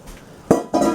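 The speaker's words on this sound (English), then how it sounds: "I'm gonna add all of the shells and heads" Shrimp shells and heads tumble into a pot of gumbo stock in two quick clattering drops, a sharp rattling impact followed moments later by a second, longer scraping splash.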